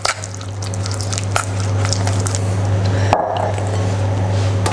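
Peanut butter energy bite mixture being mixed in a bowl, with close scraping and tapping strokes over a steady low hum.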